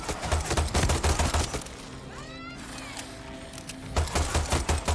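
Pistol gunfire in a video game crackles in rapid strings of sharp shots, loud and close, with a pause midway filled by quieter ambient tones before the firing resumes.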